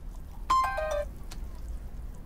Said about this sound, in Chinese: 哎，这什么电话？